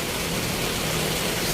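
Heavy rain pouring steadily onto a leaky roof, a dense, even hiss with no breaks, moderately loud and close.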